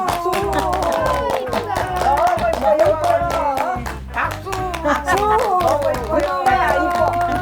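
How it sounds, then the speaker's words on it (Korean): Rural grandmothers at a pajama party clap hands together in a rapid, steady rhythm, close and lively, while several women chatter and laugh over the clapping. "박수."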